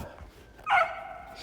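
A dog barking at squirrels outdoors during a Texas snowstorm, heard as a single short bark burst that rises mid-clip over faint background noise.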